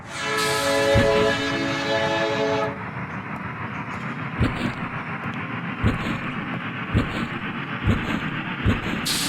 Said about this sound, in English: Hurry up, the train's about to leave.